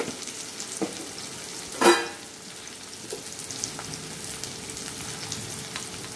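Onions fry in a pan for mutton curry as salt is added: a constant gentle sizzle with a few light utensil clinks and one brief louder clatter early on, close up.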